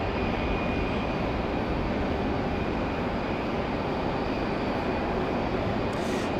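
Southwest Airlines jet departing Raleigh Durham International in the rain, a broad steady roar with a thin high whine, continuous and moderately loud at a distance, with no voices.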